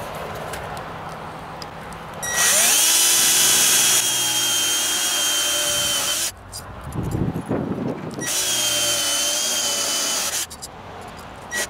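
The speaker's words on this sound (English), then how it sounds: "going up and drilling the holes in the block" A power drill whines loudly in two long bursts, drilling holes in a block, with a short pause of knocking and clattering between them, very close and steady while running.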